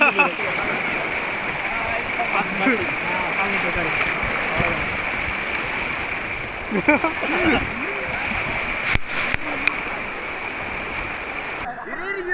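River water at the Chinnapatti spot near Madurai rushes and splashes continuously as people swim in the current, with voices talking over the steady flow and occasional louder splashes.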